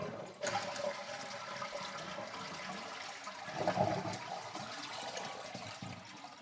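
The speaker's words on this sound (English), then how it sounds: "I'm gonna go ahead and flush all this water out" A toilet with a leaking flapper that doesn't seal flushes its tank, a soft rushing and gurgling of water that carries on quietly with a brief surge in the middle.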